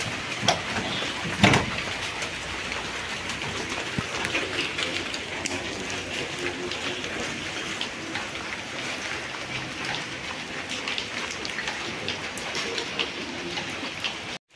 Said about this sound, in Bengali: মোটামুটি ভালোই বৃষ্টি হয়েছে।